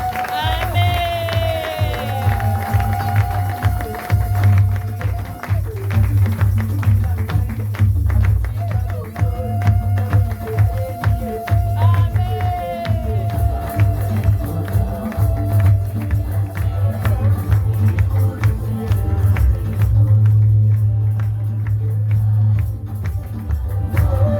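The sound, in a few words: crowd cheering and applauding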